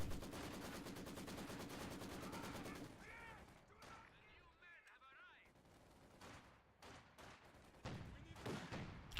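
Gunfire in a WWII strategy video game: dense rapid machine-gun bursts at first, then scattered single shots and short volleys, with voices talking beneath the battle sounds.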